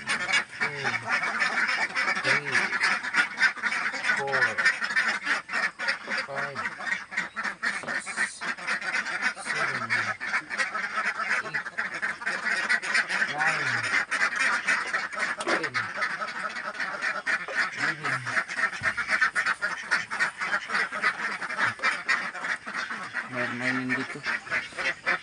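Domestic ducks on a duck farm quack steadily and loudly throughout, a dense flock chorus with repeated honking calls close by and no pauses.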